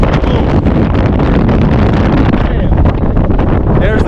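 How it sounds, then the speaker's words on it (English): Strong wind roars across a snowy mountainside near a bivouac during a snowstorm with hurricane-force gusts, a loud, constant buffeting rush that batters the microphone throughout. "The wind is so strong that it's pushing me."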